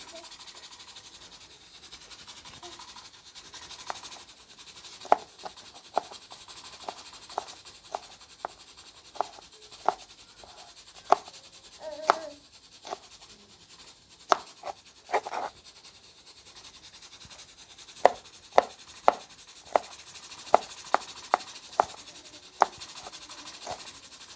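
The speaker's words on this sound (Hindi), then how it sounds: "अभी सब्ज़ मिर्च काट लेंगे" A knife chops green chillies on a cutting board in a home kitchen, making a long run of crisp, fairly close knocks at an irregular, unhurried pace with no talk.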